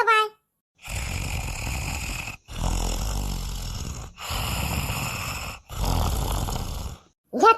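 A person snoring in a house at night, four long rasping snores in a slow even rhythm with short pauses between, close and loud, with a brief voice at the start and end.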